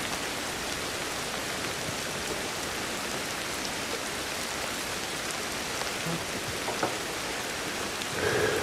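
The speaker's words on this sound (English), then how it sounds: "The rain's rather loud." Steady, loud rain falls in Ancestors: The Humankind Odyssey, a continuous hissing downpour with scattered drop patter that holds evenly throughout, with no voices.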